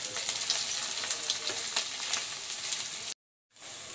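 Onions fry in a pan for a rajma masala, giving a steady close-up sizzle with crackling spits and stirring scrapes, before a brief dropout into silence and a return of the hiss.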